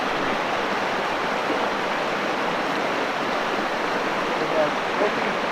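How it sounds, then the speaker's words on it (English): A river on a hiking trail rushes past in a steady, broadband wash of flowing water, close and continuous, with a couple of faint brief sounds near the end. "Get a good shot of the river here."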